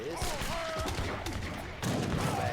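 Gatling guns in Age of Empires 3 rattle off in a dense, continuous burst of rapid shots. The volume swells loudest near the end, with faint unit chatter mixed in.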